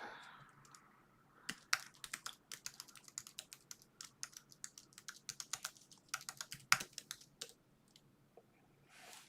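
Rapid clicking keystrokes on a computer keyboard, heard up close and fairly quiet, typed in quick irregular bursts during a live coding session, with no talking.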